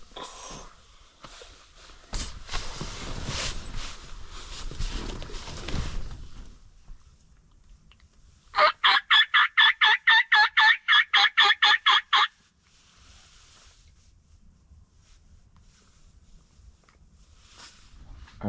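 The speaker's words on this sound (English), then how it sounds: "we just got our first gobbles. They're coming from behind us." Wild turkeys gobble in a Wisconsin spring woodland, a rapid burst of about a dozen rattling notes from behind, fairly near and clear, after an earlier stretch of rustling and movement, with quiet afterward.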